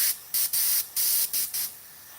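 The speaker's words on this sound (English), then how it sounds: "Now you can come in with the airbrush." Short bursts of an airbrush spraying paint to shade a 1960 El Camino's skirts, a close, bright hiss switching on and off about six times with brief gaps between.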